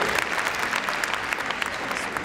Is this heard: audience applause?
yes